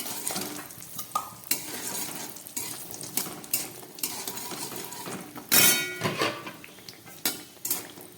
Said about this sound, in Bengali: তেলটা গরম হয়ে গেছে এবার আমি এর মধ্যে কিছুটা বড়ি ভেজে নিচ্ছি